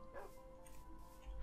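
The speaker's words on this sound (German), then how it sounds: "Wie viele Hundis hier es gibt" Dogs bark and yip faintly in the woodland survival game Life in The Woods, short distant calls over a low, steady game ambience.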